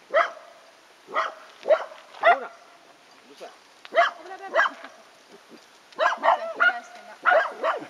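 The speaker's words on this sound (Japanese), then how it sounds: "何吠えてんの。" A dog barks repeatedly in short bursts, fairly close, with pauses between barks and a few quicker clusters toward the end.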